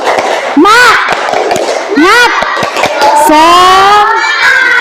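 A school class does a rhythmic cheer clap, sharp patterned hand claps mixed with children's chanting voices, loud and close in a classroom.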